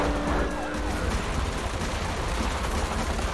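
Dense, rapid gunfire bursts from The Matrix Awakens video game, layered with car noise and chaotic action sounds in a loud, continuous mix.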